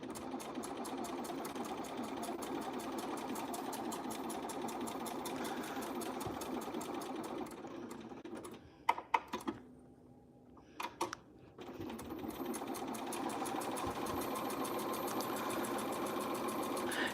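A sewing machine stitches fabric with a quarter-inch foot, running steadily close up with a fast mechanical whir. It pauses briefly for a few clicks while the fabric is turned, then resumes stitching.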